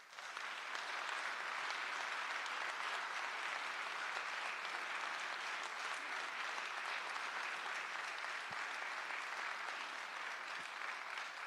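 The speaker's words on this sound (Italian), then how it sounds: "li gratificate con un applauso" A large crowd applauds continuously at a folk song and music festival in Tonara, Sardinia, a dense, steady wash of clapping that holds at full strength throughout.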